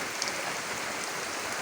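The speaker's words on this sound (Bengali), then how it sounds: "এই যে বৃষ্টি পড়ছে" Steady rain falling in the evening, a dense even hiss of drops with scattered brighter patters, no voices and no pauses across the short stretch.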